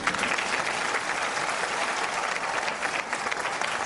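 A crowd applauds steadily and fairly loudly throughout, a dense wash of clapping with no pauses, welcoming an artist onto the stage at a Pakistan Air Force special show.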